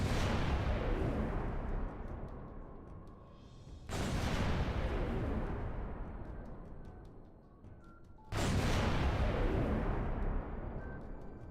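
Halo 3 AA cannon fires three heavy, booming blasts roughly four seconds apart, each a loud full-range crack that rolls into a long rumbling decay, with no talk.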